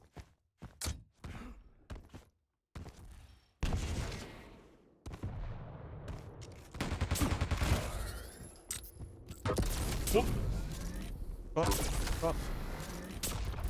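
Railgun shots and frags in a Quake duel between maxter and Nrav, with sharp gunfire bursts, thuds and steady game noise running under a fast commentator's voice.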